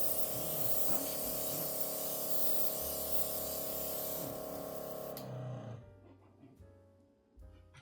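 Gaahleri TurboX Mini airbrush spraying on a test, giving a steady close hiss with a constant compressor hum underneath for about five seconds before the spray cuts off and only faint handling noises remain.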